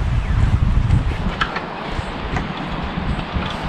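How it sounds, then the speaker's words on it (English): Strong outdoor wind at around 15 to 20 knots buffets the microphone, a rumbling, gusty roar that stays loud and steady with no talking. "I'm sure you're picking up a lot of wind"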